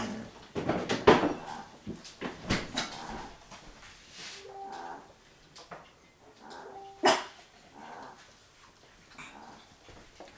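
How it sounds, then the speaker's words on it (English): Dogs barking at a squirrel in a yard, heard from indoors in a kitchen: scattered sharp barks and a few whimpers come in bursts over about ten seconds, moderately near, with quiet kitchen clatter. "The dogs are barking at a squirrel in the yard."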